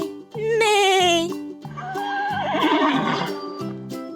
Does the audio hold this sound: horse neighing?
yes